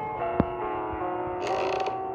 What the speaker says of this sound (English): Just creaked.